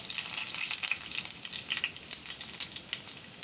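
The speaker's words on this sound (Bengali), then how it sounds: "তাই মশলা সব দিয়ে দিলাম একসাথেই ভাজার জন্য। একটু লাল লাল করে ভেজে নিচ্ছি আমি এখানে।" Spices frying together in hot oil in a pan, a soft crackling sizzle with irregular pops and faint stirring, fairly quiet and steady.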